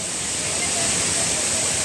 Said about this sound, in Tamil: அங்கேயே அருவி கொட்டுது பாருங்கள்.